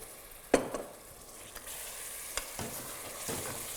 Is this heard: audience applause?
no